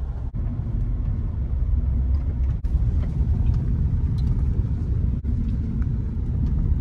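A vehicle rolls out into a soybean field at harvest time, a steady low engine rumble and road drone heard close and continuous, with a few brief dips and no voices.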